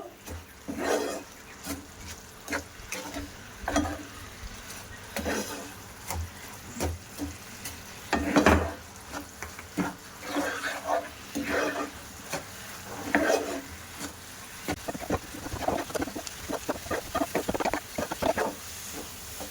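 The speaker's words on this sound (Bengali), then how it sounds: "দিয়ে এবার ভালো করে চিনির সঙ্গে মিশিয়ে নেব।" Fried lachha semai being stirred and mixed with sugar syrup in a pan, steady scraping and clinking stir strokes over a faint sticky sizzle, close and continuous, with no voices.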